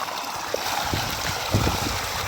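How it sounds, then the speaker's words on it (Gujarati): Running water splashes and trickles steadily as bhang greens are washed outdoors at a farm, with a few soft handling thuds and gurgles close by. "આપણે લઈ આને બરાબર ધોઈ નાખીએ"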